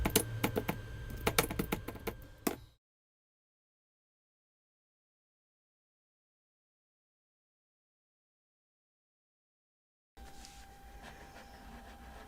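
Rapid typing on a computer keyboard, a close flurry of key clicks for about two and a half seconds, then near silence, then softer typing resuming, with no talking.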